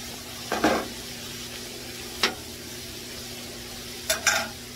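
Chopped onions frying in rendered beef fat on a flat griddle for a chopped cheese sandwich: a steady soft sizzle broken by three sharp scraping spatula strokes, close by with no talk.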